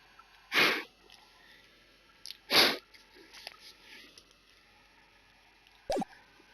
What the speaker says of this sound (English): just sneeze already